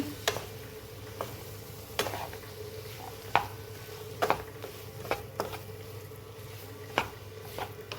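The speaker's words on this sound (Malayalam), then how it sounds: "തേങ്ങ നീ ചക്കക്കുരു ഇട്ടിട്ട് ഒന്ന് മിക്സ് ചെയ്യാണ് നമ്മൾ" Jackfruit seeds being stirred with grated coconut in a pan, a steady faint sizzle broken by regular light scrapes and clicks of the spoon against the pan, with no voices.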